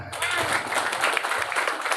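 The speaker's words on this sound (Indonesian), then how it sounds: "Tepuk tangan." A crowd at a Pemuda Pancasila gathering in Bandung claps in a dense, lively burst, loud and close, sustained throughout with murmuring voices underneath.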